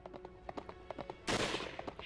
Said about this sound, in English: The sound of gunfire echoed behind us as we ran.